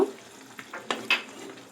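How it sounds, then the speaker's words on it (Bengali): A little water goes into a pan of sautéed shukto vegetables, bringing soft sizzling and a few quick stirring scrapes and clinks, brief and fairly quiet. "এবার এর মধ্যে আমি দিয়ে দেব অল্প সামান্য জল।"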